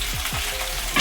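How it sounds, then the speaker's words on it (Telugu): Fish pieces deep fry in hot oil, a dense continuous sizzle and crackle, close and steady, with a few low bubbling pops and a brighter hiss burst at the end. "ఆయిల్లో వేసి ఇట్లాగా డీప్ ఫ్రై చేసుకోవాలి చేపల వేపుడు."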